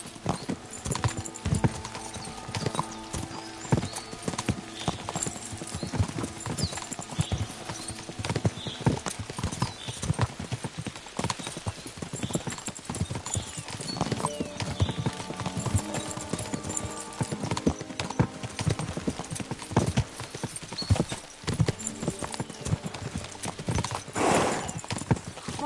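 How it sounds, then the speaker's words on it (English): Horses gallop in the medieval video game Kingdom Come: Deliverance 2, a loud, dense, continuous clatter of hooves with an occasional whinny near the end. "We should spur the horses on."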